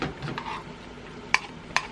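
Melted cheese is stirred in a bowl with a utensil, giving soft scraping swirls followed by two sharp clinks against the bowl, close and alone.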